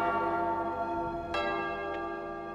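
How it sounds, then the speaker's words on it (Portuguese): A church bell rings during a São Roque novena service, its sustained tone and rich harmonic overtones ringing on steadily, with two fainter strikes standing out, and no talking heard. "Toca o sino, sacristão."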